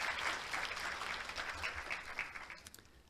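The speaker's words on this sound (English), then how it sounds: "Ladies and gentlemen, please give them a big round of applause." Audience at a Korea University international winter campus orientation ceremony breaks into brief, moderately faint applause, a dense patter of many hands clapping that fades out toward the end.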